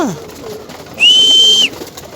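Pigeons being herded into a coop give a short soft call and then a clear, steady whistled note lasting under a second, close and loud, with no talk.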